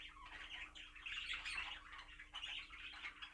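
A show bird in a shed full of other birds chatters away in busy, scratchy chirps and squawks, fairly quiet and continuous with small pauses, over a faint steady electrical hum and no voices.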